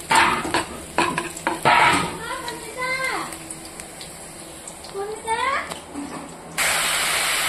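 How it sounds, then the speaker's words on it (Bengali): Chopped raw onion is lightly fried in a pan. A spoon clatters and stirs while a soft sizzle runs underneath, and a person talks over it all. "আর এদিকে একটু ভেজে নেব পেঁয়াজটা হালকা করে।"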